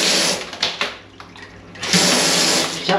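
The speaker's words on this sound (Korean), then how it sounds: "그러면 이제 여기 샤워기 수압은 어떤지 한번 볼게요." A hotel shower in Pattaya runs at high water pressure, a loud, close, steady hiss of spraying water that dips briefly in the middle and then surges back strongly.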